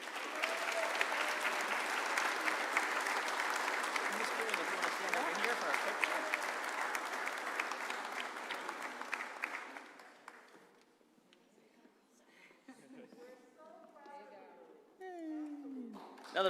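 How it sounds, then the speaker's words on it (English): Applause at a sixth-grade moving-on ceremony at the Johnson School: a sustained round of clapping from a large audience for about ten seconds, then a quieter stretch with a few voices. "Another round of applause."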